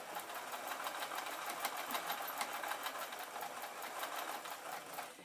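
A sewing machine stitches microfibre tea cloths into a steam mop cover, its needle chattering in a fast, even rhythm, close and steady with no talking.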